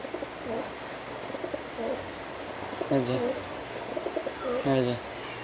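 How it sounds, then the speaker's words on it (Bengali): A pet pigeon held on the hand coos in a few soft, throaty bursts, close by and fairly quiet, with faint background hum and someone talking in between. "ডাকবে পায়রা, দেখবেন"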